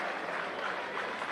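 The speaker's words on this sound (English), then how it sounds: "You can hear the crowd in the background." A crowd at a school boys' water polo gold-medal final in New Zealand roars in a dense, steady wash of cheering and clapping, loud and continuous throughout the brief moment.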